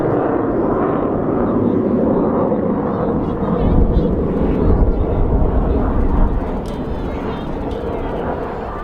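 An older propeller aircraft flown by the Swedish Air Force Historic Flights at a Scottish airshow, its engine drone loud and steady, swelling as it passes, with a commentator talking over it.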